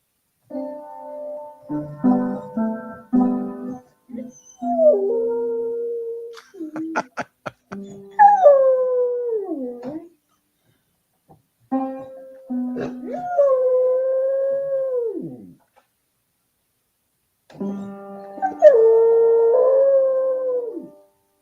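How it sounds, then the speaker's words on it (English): A dog howls and whimpers in long rising and falling tones, in several bursts separated by short pauses, with clattering piano keys struck under the howls as it plays a piano. "Talented dog playing a piano."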